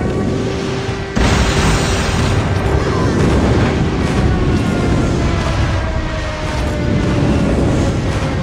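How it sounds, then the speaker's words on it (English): Airstrike explosions in the mobile shooter game Call of Duty Mobile boom and rumble densely and loudly after a sharp onset, a continuous wash of blasts with faint game voice announcements underneath. "Friendly airstrike incoming."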